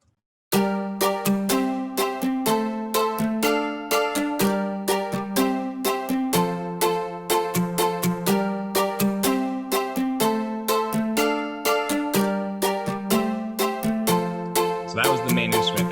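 Omnisphere synth patch built from a plastic Stratocaster, playing a steady repeating melodic pattern with percussive plucked attacks, loud and continuous alone, with a brief noisy flourish near the end.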